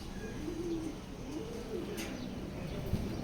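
Racing pigeons, female racers, coo softly in low repeated phrases, with a brief chirp near the end, close by over steady background noise.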